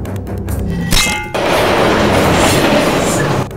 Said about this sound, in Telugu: train number one one zero one five DC express running out of control